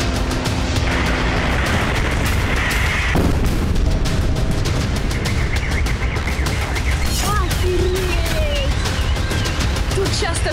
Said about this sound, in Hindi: एक जोरदार धमाके की आवाज सीसीटीवी कैमरे में रिकॉर्ड हो गई